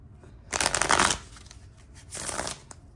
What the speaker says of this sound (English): This one's a way nicer shuffle than the tarot by myself.